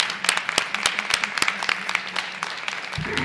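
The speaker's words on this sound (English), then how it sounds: "Give our school board a big round of applause" An audience at a school board meeting claps a round of applause for the board members, dense and steady from start to finish, with a few whoops and a voice rising near the end.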